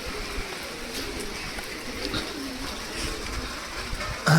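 Heavy rain pours steadily over a pigeon loft while pigeons coo softly now and then beneath the constant hiss of the downpour.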